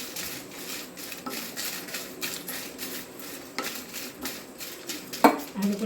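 Curry leaves and dried red chillies dry-roasting in a pan for spiced lentil powder, with steady scraping and stirring of a utensil against the metal and light rattling taps, a sharper clink near the end.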